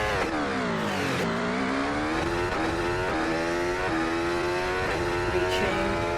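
A Mercedes W16 Formula 1 car in a racing video game drag race screams at high revs, its engine note climbing steadily after quick gear shifts, loud and continuous with no talk over it.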